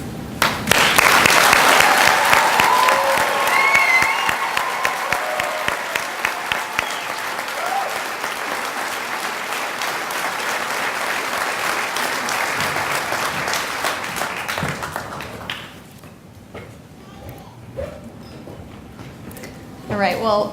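A crowd at a fire department academy graduation applauds its new firefighters with loud, dense clapping that swells early, holds steady for about fifteen seconds, then drops away to quiet with a few scattered claps and faint voices.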